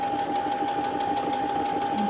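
A sewing machine runs steadily as it stitches a seam on pants sewn from border-print fabric, a continuous close mechanical whir with a fast even needle rhythm and no pauses.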